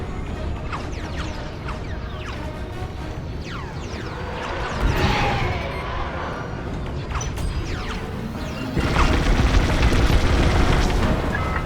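Explosions from the Star Wars Squadrons space combat video game: loud booming blasts and crashing bursts over a dense mechanical rumble, growing heavier in the final seconds.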